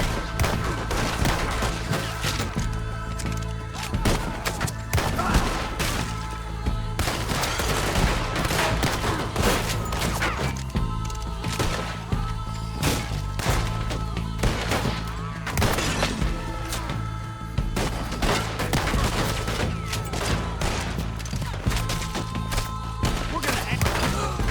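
Gunfire in the video game Red Dead Redemption 2, a dense, nonstop barrage of sharp shots and rapid volleys layered over a steady game music and ambience bed, with voices occasionally speaking underneath.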